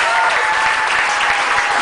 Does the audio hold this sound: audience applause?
yes